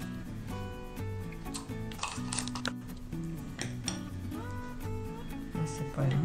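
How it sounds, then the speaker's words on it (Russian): Semolina being stirred with food colouring and a splash of vodka in a bowl, a steady run of spoon scrapes and clinks against the dish over a music background. "Ну и дальше перемешиваем, добавляем чуть водки"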